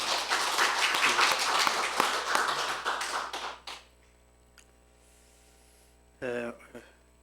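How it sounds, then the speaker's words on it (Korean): Church congregation clapping in encouragement for the pastor's children during a Sunday afternoon service, a dense round of applause lasting a few seconds before cutting off, followed by quiet room hum and a brief voice. "우리 목사님 자녀들 위해 격려의 박수 하십시다"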